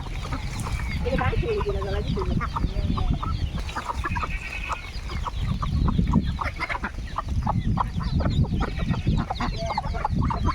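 Chickens and their chicks on a small duck-raising farm keep up a dense, continuous clucking close by, with overlapping calls and some voices under the flock.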